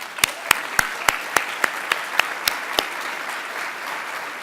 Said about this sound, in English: Please give all of our program partners a round of applause.